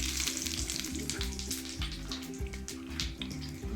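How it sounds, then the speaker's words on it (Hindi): Cumin seeds tempering in hot oil for a Punjabi-style kadhi pakora, a dense, continuous sizzle and crackle heard close up with no voices. "अब हम तड़का लगा रहे हैं।"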